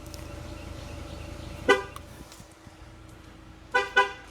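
A 2016 Chevy Malibu horn gives one short honk, then after a pause two quick honks, signalling TPMS sensor relearn, over a low idling hum.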